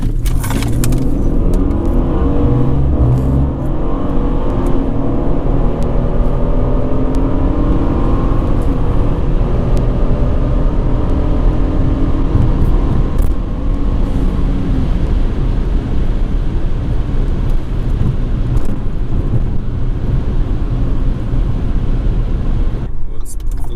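A SHO car with a boost leak accelerates hard on a private road in Mexico, its loud engine roar and whooshing leak noise continuous and close throughout the pull, ending abruptly near the end.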